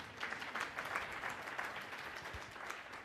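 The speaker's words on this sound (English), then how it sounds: "that was your audience who was hesitant to applaud" Audience applause at a philanthropy forum session, a steady wash of many hands clapping throughout, fairly faint and diffuse, with no speech over it.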